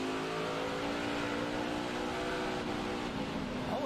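A NASCAR Nationwide stock car engine in a 2009 race, heard onboard: a loud, steady high-revving roar with sustained harmonic drone throughout, no talk.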